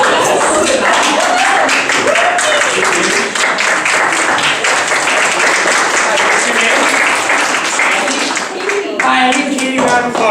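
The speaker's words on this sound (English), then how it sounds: "round of applause" An improv comedy show audience applauds loudly and steadily, with dense continuous clapping and scattered cheers filling the room throughout, while voices carry faintly under the clapping.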